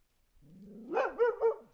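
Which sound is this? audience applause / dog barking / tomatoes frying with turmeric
dog barking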